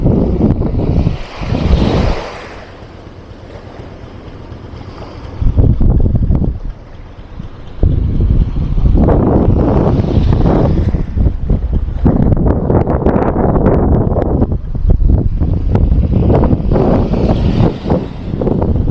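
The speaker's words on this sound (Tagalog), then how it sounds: "Hirap dito pagka malakas ang hangin." Strong wind buffets the microphone in loud, roaring gusts, with surging water and surf underneath, easing briefly before blowing hard again.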